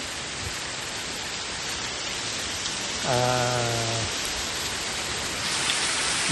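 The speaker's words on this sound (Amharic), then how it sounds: "እጅግ በኃይለኛው እየዘነበ ነው።" Steady, dense roar of heavy rain in Wheaton, Maryland throughout, with a brief low tonal hum rising partway through.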